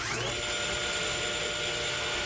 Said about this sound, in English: Let's cut some wood.